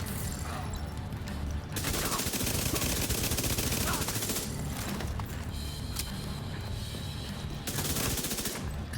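Sustained automatic gunfire in The Division 2 comes in long, dense bursts with brief pauses, loud and close, rattling almost continuously.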